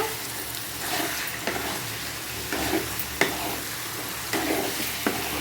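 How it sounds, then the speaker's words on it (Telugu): Chicken curry with spices frying in a pan, a steady loud sizzle with regular scraping strokes of stirring throughout. "లో ఫ్లేమ్లో పెట్టి బాగా కలుపుకోవాలి. ఇప్పుడు కావాలంటే కూడా హై ఫ్లేమ్లో పెట్టుకోవచ్చు."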